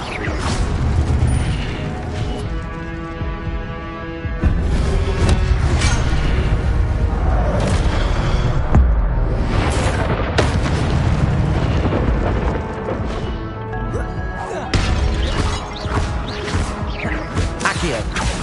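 Incendio fire spell blasts in the video game Hogwarts Legacy, repeated booming, crackling bursts and crashes over a dense game soundtrack, loud throughout, with voices shouting between the blasts.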